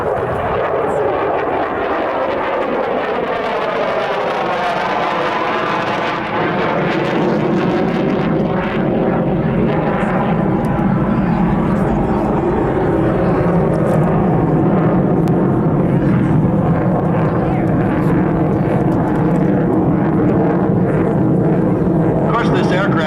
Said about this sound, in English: this is the Vermont Air National Guard F-16C with its powerful Pratt & Whitney F-100 220 engine